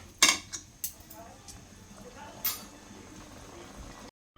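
A spoon scrapes and clinks against a pot while tomato bath masala is stirred, giving a few sharp metallic knocks over a soft bubbling background before it cuts to silence.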